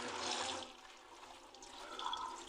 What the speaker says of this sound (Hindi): तो अभी हम यहाँ इसको पानी से वॉश कर लेते हैं।